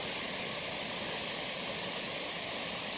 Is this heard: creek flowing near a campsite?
yes